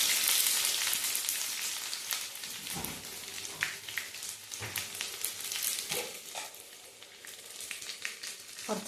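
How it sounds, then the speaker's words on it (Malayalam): Shallots and dried red chillies fry in hot oil after mustard seeds have popped, a loud close sizzle that is strongest at first, with scattered stirring clinks as it gradually settles. "കടുക് പൊട്ടിക്കഴിഞ്ഞാൽ നമുക്ക് ചെറിയുള്ളിയും വറ്റമുളകും ഇട്ട് കൊടുക്കാം കേട്ടോ."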